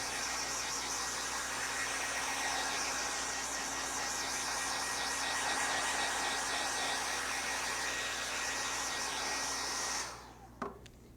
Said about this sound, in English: I put my hair dryer on the highest setting, and I switch between the hot and the cold setting.